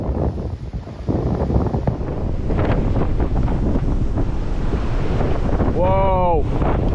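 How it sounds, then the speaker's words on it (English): Strong storm wind battering a microphone at a lakeside pike fishing spot, loud continuous rumbling buffeting throughout, with a brief voice exclamation near the end. "Never known wind so bad"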